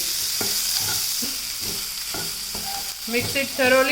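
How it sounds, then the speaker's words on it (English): Green chilies and onions sizzle in a frying pan for a paddu preparation while a spoon scrapes and stirs in steady rhythmic strokes, close and alone, with a few brighter clinks near the end. "Then add green chilies. Mix it thoroughly."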